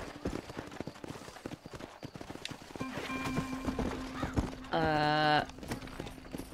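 Rapid clip-clop of galloping horse hooves in the video game Red Dead Redemption fills the clip, followed by a loud horse whinny near the end, with a voice speaking faintly beneath.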